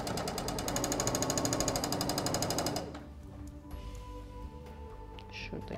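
A sewing machine stitches the waist seam of a lace skirt. It runs in a fast, steady mechanical chatter for about three seconds, then stops, leaving quiet room noise.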